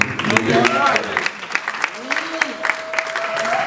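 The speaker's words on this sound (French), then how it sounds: "Je vous demande d'applaudir aussi pour" A gathering at a wedding ceremony claps in scattered bursts while people talk and call out over the applause.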